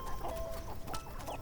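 Hens clucking in a farmyard, a steady run of soft, close clucks and short calls over a low continuous murmur, with no one talking.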